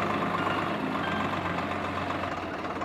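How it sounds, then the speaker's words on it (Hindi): A tractor engine idles steadily on a village road, a dense continuous low rumble holding constant loudness throughout with no talk over it. "इस बार बाइक नहीं ट्रैक्टर है"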